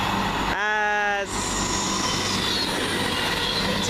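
Class 221 Voyager train passing close at Coseley, a steady loud roar of wheels on rail with a short tonal whine near the start, under faint talk.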